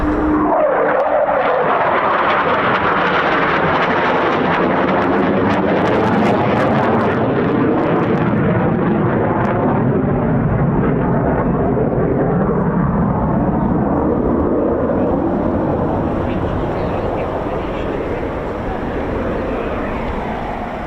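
A Eurofighter Typhoon FGR4 jet flies low and inverted down the runway at RAF Coningsby, a loud, sustained roar whose pitch sweeps downward as it passes close by.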